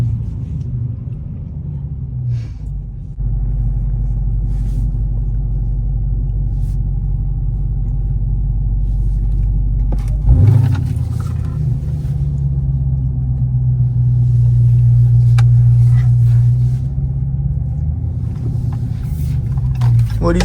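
A 2023 Dodge Charger Hellcat with a mid-muffler-delete exhaust rumbles at a deep, steady idle nearby, with a sharp blip and a swell in revs partway through.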